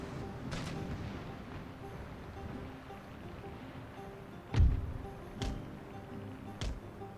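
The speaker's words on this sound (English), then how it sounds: "Exchanging musket fire as well as cannon fire." Musket volleys and cannon fire boom in a naval battle in Empire Total War, a few separate heavy reports over a low steady background, one stronger blast followed by sharper cracks.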